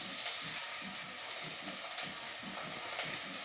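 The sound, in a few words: curry leaves frying in oil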